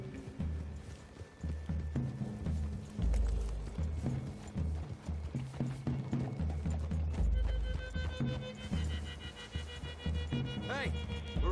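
Horses gallop through the woods in Red Dead Redemption II, with steady clip-clop hoofbeats at a quick running rhythm, a brief whinny near the end, and faint game dialogue underneath.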